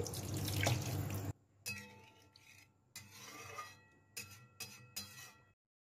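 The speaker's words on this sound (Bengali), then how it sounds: "এবার একটু জল দিয়ে দিচ্ছি।" Water rushes into a cooking pot for a Bengali potato curry in a brief, loud pour, followed by several lighter clinks and knocks of utensils against the pot. No one speaks.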